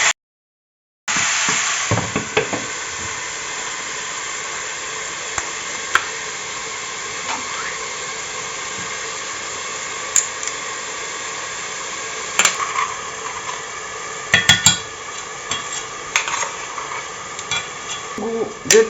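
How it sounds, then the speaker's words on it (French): A pot of tomato sauce with tomato paste for lasagne is stirred and simmers with a steady hiss, broken by occasional sharp clicks of a utensil against the pan, with no talking. "Là, je vais remuer un petit peu."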